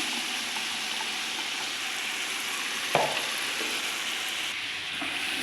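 Tomato paste frying in a pan for an Arabic maqluba dish, a steady, dense sizzle that stays loud and even throughout, with one brief clink partway through.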